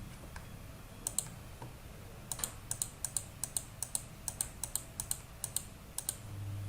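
Computer keyboard keys and mouse buttons click in quick, irregular bursts near the microphone, sharp and fairly quiet against a low background hum, with no voices.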